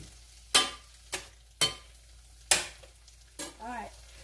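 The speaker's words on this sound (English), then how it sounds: "put the heat back up. Get some sizzle going." Italian ricotta chicken sizzles quietly in a hot pan, broken by several sharp scrapes and knocks from a stirring utensil at irregular intervals.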